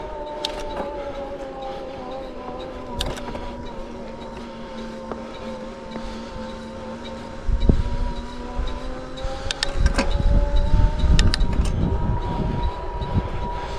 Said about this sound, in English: I'll let you listen to the motor through this section as I come out of the steep, punchy section